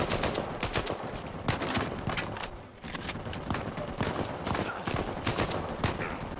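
Dense gunfire from the Uncharted 4: A Thief's End video game: rapid overlapping shots and bursts rattle almost without pause, loud and close throughout.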